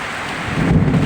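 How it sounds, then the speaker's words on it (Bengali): Steady rain pours down during the year's first rainfall in Burichang, Comilla, a broad close wash of noise that swells slightly louder partway through the brief stretch, with wind rumble on the microphone. "আজকেই প্রথম বৃষ্টি হচ্ছে।"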